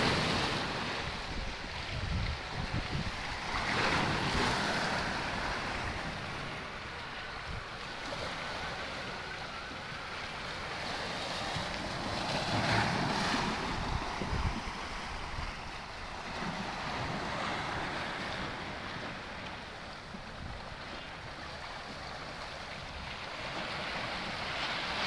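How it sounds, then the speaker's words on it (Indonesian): Waves and wind at Ulee Lheue harbor in Banda Aceh as the ferry to Sabang approaches, a broad continuous wash of surf and wind buffeting with slow swells in loudness, no talk. "Di sana ada kapal penyeberangan ke Sabang guys, kapal feri udah mau merapat."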